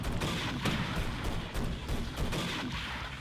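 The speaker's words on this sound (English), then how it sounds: "I wasn't expecting that to be a machine gun of sorts, a turret, if you will" A Striker wheeled vehicle's machine gun turret fires in the Teardown video game, a dense, continuous stream of loud rapid shots and booming impacts with no talking over it.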